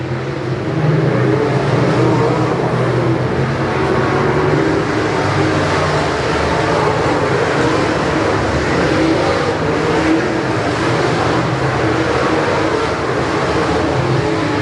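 Race cars on an oval track make a steady, loud, continuous engine roar as they battle side by side through turns 3 and 4, with no break or voice over it.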